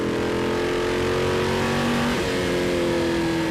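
V8 Ute race cars on the Winton circuit, with a loud, continuous engine roar whose pitch climbs and shifts as the cars pass under throttle, dense and close throughout.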